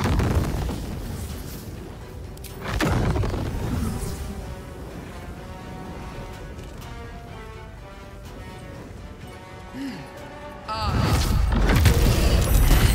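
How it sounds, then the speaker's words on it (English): Explosions in the video game Baldur's Gate 3, heavy booming blasts at the start and a longer rumbling burst near the end, with quieter game effects and tonal sounds between them. "Those explosions are pretty nasty."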